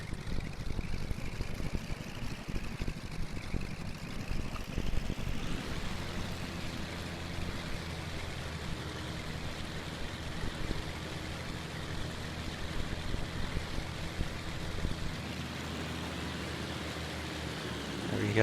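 Twin engines of a Cessna 310 in the X-Plane 11 flight simulator start up and settle into a steady, loud droning hum. The pitch and texture shift as the second engine catches, and the drone runs on continuously with no talk.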